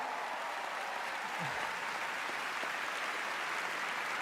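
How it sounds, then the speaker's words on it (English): Steady applause from a crowd, a dense even wash of clapping that holds at the same level throughout with no speech on top. "So please, a round of applause for them."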